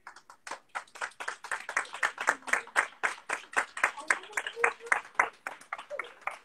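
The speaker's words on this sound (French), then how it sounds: "on les applaudit!" A book fair audience applauds the festival team, a fairly small crowd clapping in loose, distinct claps that gather into a roughly rhythmic, pulsing beat, close and clear, with a few voices in the background.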